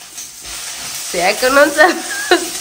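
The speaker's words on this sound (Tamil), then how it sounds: "கருவேப்பிலையும் சேர்த்துக்கிறேன்." Curry leaves hit hot oil in a pan with coconut: close, loud frying sizzle and stirring scrapes, the crackle flaring sharply as the leaves go in, with bursts of spattering over a steady hiss.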